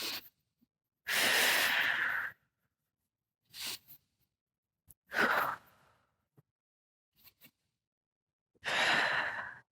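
Deep breaths taken during a spinal rotation stretch, several long, loud airy inhales and exhales close to the ear, separated by silent pauses, with a few shorter breathy puffs in between.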